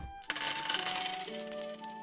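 Gold coins from a treasure chest drop and clink together in a bright metallic jingle, a quick cluster of chimes that rings out and settles, with a few later taps.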